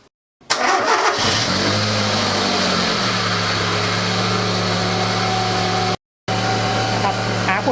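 A car engine is started for bleeding air from an open-type radiator cooling system: a short cranking burst catches into a steady, loud idle close by, running evenly with a brief dropout near the end.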